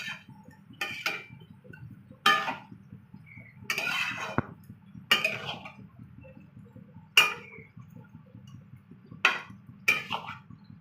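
A metal spoon stirring fried prawns in a cooking pan, sharp clinks and scrapes coming in spaced bursts about every second or two over a low steady sizzle, close and fairly loud.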